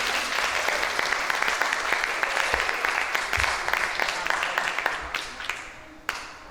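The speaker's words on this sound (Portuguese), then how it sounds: "merece uma salva de palmas." Sustained applause fills a church Sunday school hall for a women's class, steady dense clapping from a crowd that thins slightly toward the end.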